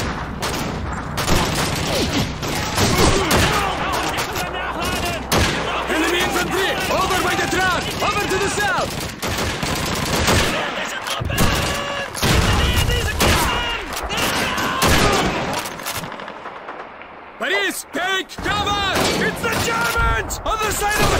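Sustained gunfire in the video game Call of Duty 2, a rattling fusillade of rifle and machine-gun shots with heavy thuds, running almost without pause and loud under constant shouted voices, easing briefly near the end.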